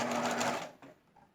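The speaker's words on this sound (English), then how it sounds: "I'm going to start sewing again" A sewing machine stitches binding onto a quilt in a steady, close whirring run, then stops abruptly partway through, leaving quiet room tone.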